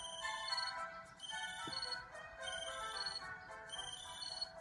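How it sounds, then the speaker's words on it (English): A mobile phone alarm rings with a bright, melodic electronic tone that repeats in three similar phrases, loud and close, with no one speaking. "When Amy's alarm goes off, she switches her mobile phone on."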